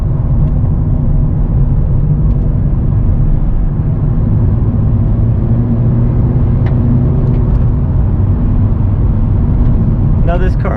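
A 2006 Honda Civic with a 140-horsepower engine drones steadily from inside the cabin after a downshift, a loud continuous low rumble with road noise and a faint clatter near the end.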